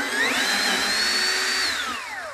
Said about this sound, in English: I'm just gonna be using a drill and my security bit set